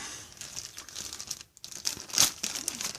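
Crinkling of a thin plastic wrapper, steady rustling close to the mic with a brief pause and a sharper crackling burst near the end.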